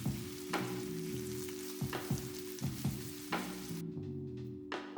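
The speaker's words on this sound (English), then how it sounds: "Fry the onions in the same oil left over from frying the chicken breast." Chopped onions fry in a pan of oil left over from frying chicken breast, giving a steady, close sizzle broken by repeated scraping stirs.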